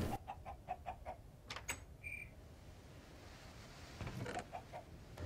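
A chicken clucks in Minecraft in faint, rapid bursts of short clucks, first at the start and again near the end, over a soft background hiss.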